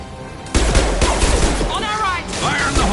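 Sustained gunfire in the video game Mass Effect 2, loud rapid bursts of automatic weapons with combat sounds layered over shouted voices.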